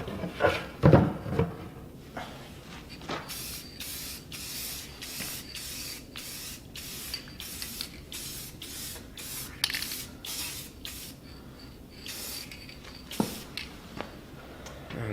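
Short bursts from a spray paint can coat old wooden duck decoys, a near series of hissing sprays in a steady rhythm, with a few knocks and handling clatter at the start and end.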